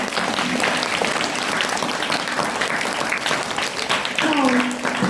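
An audience at a school inter-house English story narration competition applauds the storytellers, steady clapping running throughout with a voice speaking over it.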